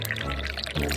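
Water pours steadily into a cup or glass for about a second, a continuous gurgling splash with a brief shift in pitch near the end.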